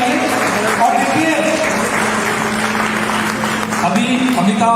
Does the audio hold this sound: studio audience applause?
yes